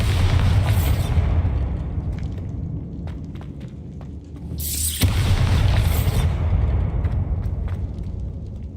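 A Bombarda blast spell goes off in Hogwarts Legacy, heard as loud, heavy booming bursts against a dense rumbling game soundscape, with one big detonation about two-thirds of the way through.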